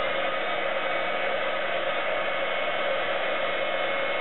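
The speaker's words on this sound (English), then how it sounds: "we're going to heat it, and you want to be careful not to hold the heat gun in one place too long because you will warp the acetate" Heat gun blowing steadily to melt embossing powder on clear acetate, a continuous loud fan-and-air rush with no breaks and no voices.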